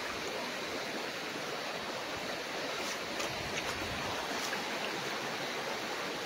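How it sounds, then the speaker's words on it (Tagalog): A clean, cold river runs beside a farm lot in Real, Quezon, giving a steady, even rush of flowing water that holds constant at a moderate distance with no voices. "Ang linis ng ilog"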